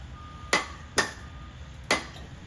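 Sharp metallic clicks from a torque wrench tightening the blade on a Craftsman T110 riding mower deck, four distinct snaps spaced about half a second apart, close and fairly loud, with no talking.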